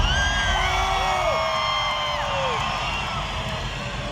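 A large concert crowd at a show in Bogotá whoops, yells and cheers loudly and continuously, with rising and falling shouts over a dense roar.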